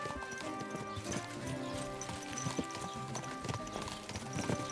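Horse hooves clip-clop steadily at a riding pace in the medieval game Kingdom Come Deliverance II, a close, even rhythm of hoof strikes over a busy mix of game ambience and faint tones.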